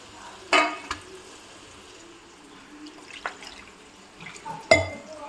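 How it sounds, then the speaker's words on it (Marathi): Crabs with onion and masala frying in hot oil give a low, faint sizzle underneath, broken by two loud clattering bursts as pieces drop in and a few lighter stirring knocks, with no speech. "मस्तपैकी तेल गरम झालं, कांदा परतलेला आहे. आता आपण त्याच्यामध्ये ह्या ज्या किरव्या आहेत त्या सर्व टाकतोय."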